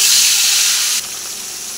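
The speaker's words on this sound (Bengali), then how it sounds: "মাছ ভাজা হচ্ছে" Turmeric-and-salt-rubbed scaleless fish frying in hot mustard oil, a steady loud sizzling hiss that eases slightly partway through and then continues evenly.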